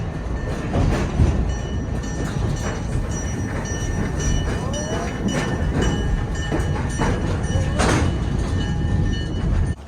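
Train ride along a scenic coastal route at Wheeler, Oregon, heard from inside the car as a steady loud rumble with rattling and clacking from the wheels, plus a few creaks and squeals, throughout.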